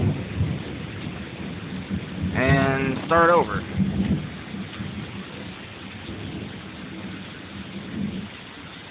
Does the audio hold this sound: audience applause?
no